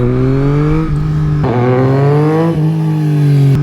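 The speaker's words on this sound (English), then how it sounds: "Alright, so we're gonna get the bike revved up a bit." A 2022 Yamaha MT-09 motorcycle engine revs loudly and close, its pitch climbing in three surges with brief dips between throttle blips, no voices over it.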